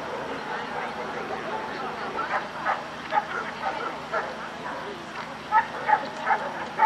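Dogs at a German Shepherd show in Washington DC yipping and barking in short scattered bursts at moderate distance amid crowd murmur, with a person talking nearby.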